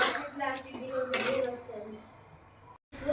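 Dal being stirred into spices in a cooking pot for a Bengali tarka, a few soft scraping and clinking strokes of a spoon against the pot, close and fairly quiet.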